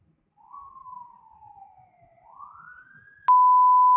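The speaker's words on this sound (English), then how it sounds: "this siren is for reals" An emergency siren wails at night on a Toronto street, one slow falling-then-rising sweep at moderate distance, cut off by a loud steady electronic tone.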